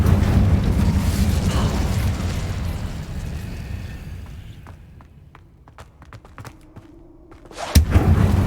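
A fire spell, Incendio, cast in Hogwarts Legacy, bursts with a loud roaring whoosh that fades into crackling and scattered sharp snaps, then ends in a sudden heavy thump.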